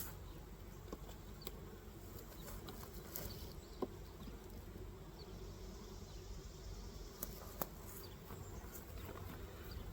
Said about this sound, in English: We got quite a few bees in here.